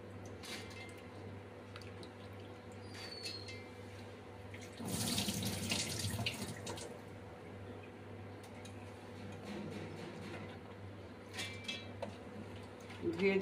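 Tap water runs steadily into a container while soaked black lentils are rinsed, with a louder gush midway and some sloshing and dripping, all close by.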